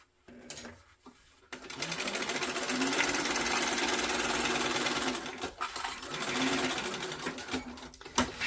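A sewing machine stitches down fabric for a backpack in one long steady run of rapid mechanical clatter after a few brief starts, ending with short stop-and-go bursts.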